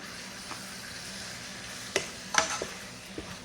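Pasta sauce being stirred in a pan, with a soft sizzle underneath and a few scattered clicks and scrapes of the spoon against the pan, fairly quiet and with no talking.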